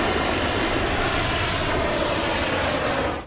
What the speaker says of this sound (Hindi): दोबारा टेक ऑफ करने के बाद उन्होंने जेट विंग में लगे इंजनों को पूरी ताकत के साथ चालू कर दिया